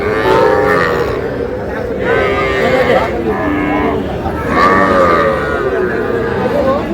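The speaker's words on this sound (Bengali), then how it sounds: "দেখছিলাম এখানে বেশ সুন্দর বাচ্চা ষাঁড় বাচ্চা।" Young bull calves moo repeatedly at a busy cattle market, their drawn-out calls loud and close, with crowd chatter and talking in the background.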